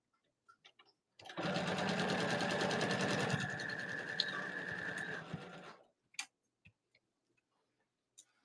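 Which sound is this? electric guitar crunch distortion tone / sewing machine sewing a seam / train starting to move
sewing machine sewing a seam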